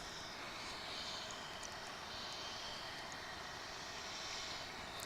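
UPS cargo jets at DFW International Airport produce a steady, distant, fairly faint engine roar that holds evenly throughout, with no voices.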